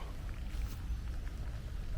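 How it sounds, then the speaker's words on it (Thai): Rain falls on a used BMW E39 523i sedan, a steady, close, dense hiss of drops on the car's body with no pauses. "ตอนนี้ฝนฝนตกอยู่"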